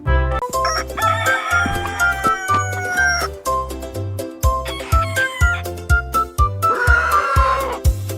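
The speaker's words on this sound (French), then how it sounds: "Cocorico s'est réveillé le premier." A rooster crows loudly and close, several drawn-out calls over a steady low rhythmic thumping beat.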